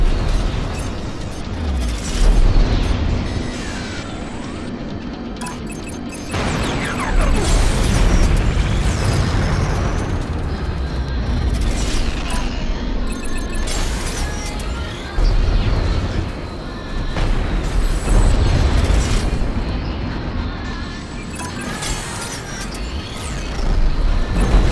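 Explosions and weapon fire in a space battle in the video game Strike Suit Zero, with repeated booming bursts and mechanical clatter over a constant loud rumble, no talking.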